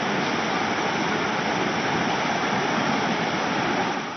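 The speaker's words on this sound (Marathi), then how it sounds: "गौतमी नदीला पूर आलाय।" The flooded Gautami river makes a constant, loud rushing roar, a dense, even wash of water with no voices.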